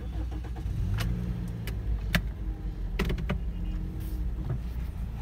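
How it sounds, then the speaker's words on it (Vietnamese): Inside a 2015 Toyota Vios G with a 1.5-litre automatic, a low engine hum runs steadily under scattered sharp clicks and cabin switch sounds as the car sets off on a test drive. "Bây giờ mình sẽ chạy thử chiếc xe này xem là nó ra làm sao."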